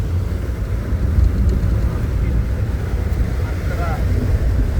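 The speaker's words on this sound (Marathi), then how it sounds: "मित्रांनो पाऊस फार जोरात चालू झाला बघा." Heavy monsoon rain drums on a moving car near a roadside dhaba, a dense, loud roar of water and road noise heard from inside the cabin, continuous throughout.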